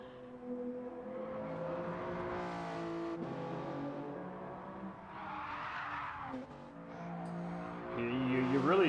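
A race car in a PS5 racing game roars through corners, its engine note rising and falling with tyre squeal as it gets unsettled over an elevation change, while a commentator talks over it.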